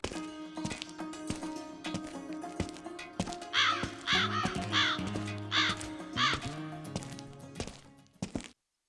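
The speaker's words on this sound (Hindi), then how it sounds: "मेरे मुंह से कौवे की आवाज निकल रही है" Harsh crow caws ring out in a Hindi cartoon, a burst of about six rasping calls in the middle, set against quiet background music and soft tapping.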